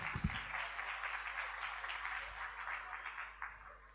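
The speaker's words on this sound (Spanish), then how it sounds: "Creo que se merece un aplauso" A small group applauds a performance in a French lesson, with quick close claps in a steady patter that thins out toward the end.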